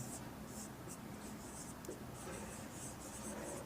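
Writing on a board during a probability lecture: very faint, rapid stroke-like scratches repeat over a quiet background hiss, with no talking.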